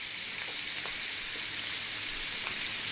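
Fish fries in hot oil with a steady, bright sizzle and occasional small pops, close and continuous with no talking over it.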